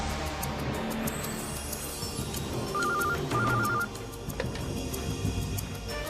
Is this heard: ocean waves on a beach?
no